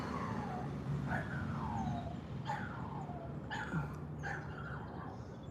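A small dog of unknown breed whimpers and cries in repeated high, falling whines, several separate cries spread over a few seconds, near and clear over steady background noise.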